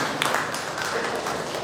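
An audience at a development conference panel session applauds, a steady wash of many hands clapping at moderate distance, continuous and even with no speech over it.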